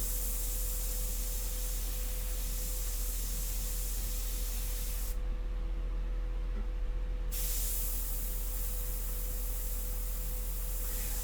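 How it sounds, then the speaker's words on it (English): An airbrush sprays India ink onto paper in a continuous close hiss, cutting out for about two seconds partway through before resuming just as steadily. "I work so much with this airbrush that I really know how to get everything out of it"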